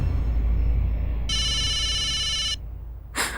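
A telephone rings with a bright, electronic trill that runs steadily for over a second, stops, then briefly starts again, loud over a low room hum.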